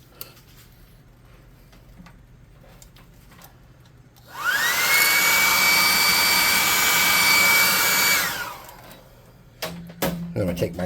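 A heat tool blows hot air to dry paint, a loud whirring rush that spins up sharply, holds steady for about four seconds and then cuts off, with quiet handling noises before and after.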